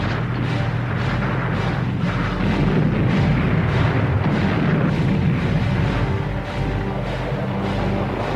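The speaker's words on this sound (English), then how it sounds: "the Germans had moved within artillery range of the city and had started a fierce bombardment" Heavy artillery bombardment rolls on as a dense, continuous wall of deep booms and rumbling blasts, loud and unbroken with no distinct pauses between shots.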